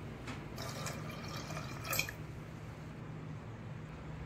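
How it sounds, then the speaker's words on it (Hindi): Two glasses of water go into a pressure cooker holding kidney beans: faint splashing and dripping for the first two seconds, then quiet, soft kitchen background. "अब हम राजमे में 2 ग्लास पानी डालेंगे।"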